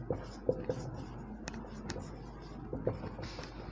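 Chalk or marker writing on a classroom board during a geology lecture on the time scale: a few brief tapping strokes and scratches over a quiet room, with faint speech in the background.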